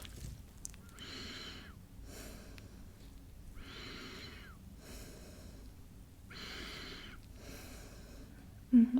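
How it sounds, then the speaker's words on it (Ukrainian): Slow, even breaths for a lung check in an ASMR doctor role-play, four soft, close inhale-exhale cycles roughly two seconds apart against near silence, ending with a brief louder sound. "дихай, як завжди, а я послухаю твої легені"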